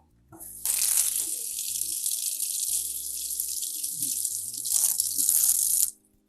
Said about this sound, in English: I'm gonna rinse off my knife